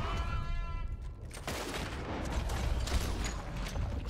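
Gunfire in the western game Red Dead Redemption 2 crackles amid loud, dense outdoor ambience, with a sharp burst near the middle and steady noisy commotion throughout.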